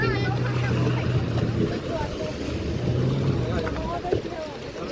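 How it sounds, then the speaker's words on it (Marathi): A boat arrives on the Konkan coast, its low engine drone steady under wind buffeting the microphone and the wash of water. Faint voices mingle in the background. "आमची बोट आली आणि आता आम्ही बोटमध्ये जाणार आहोत काही."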